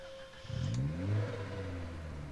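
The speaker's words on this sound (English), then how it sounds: "I'm fairly certain that the engine sound is going to attract them" Car engine revving in the zombie survival game Project Zomboid, a steady mid-pitched motor swelling as it accelerates, then holding a droning tone, close and without voices.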